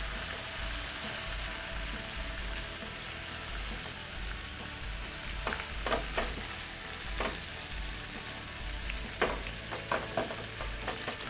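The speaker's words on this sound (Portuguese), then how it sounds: "Então, vamos selar o presunto. Vou dourando aqui, já viro do outro lado." Ham searing and frying in a hot pan for a sandwich, a steady loud sizzle and crackle with occasional sharper pops and utensil scrapes as the slices are turned.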